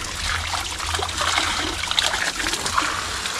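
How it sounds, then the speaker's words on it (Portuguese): Water pours down from above in a steady splashing, trickling flow, fairly loud and close, continuous with small splashy bursts throughout. "olha a quantia a mais de água que vem lá de cima"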